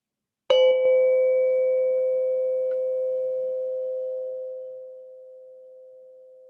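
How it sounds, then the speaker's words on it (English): A single meditation bell strike rings out clearly, then its pure tone hums and slowly fades over several seconds into near silence. "we'll start with the sound of the bell from the beginning, middle, and end"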